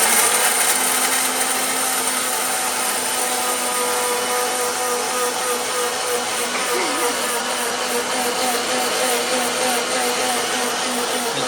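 An electric mixer grinder grinds dried eggshells with a steady, loud, high motor whine and a gritty rasp that holds unbroken throughout, close by with no pauses.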